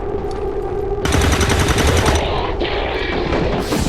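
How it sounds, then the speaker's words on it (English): Gunfire in XCOM 2: a sudden loud burst of rapid automatic shots bursts in after a short quiet lead-in, followed by a second blast near the end, with no speech over it. "Garen takes the shot and misses"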